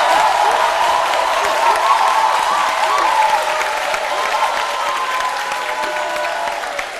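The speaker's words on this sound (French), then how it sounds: "je voudrais qu'on applaudisse très fort pour les étudiants de l'École supérieure d'informatique et de communication qui sont avec nous" An audience applauds loudly for a group of students, dense sustained clapping that holds steady for several seconds before easing slightly at the end.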